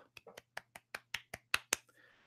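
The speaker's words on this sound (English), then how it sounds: "That is a golf clap." A slow, sparse golf clap: about ten separate hand claps spaced evenly at roughly four per second, close and fairly quiet, with a low steady hum beneath them.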